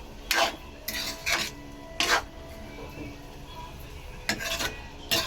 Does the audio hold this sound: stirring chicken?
yes